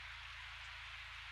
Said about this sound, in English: The rain has not faltered and shows no sign that it ever will.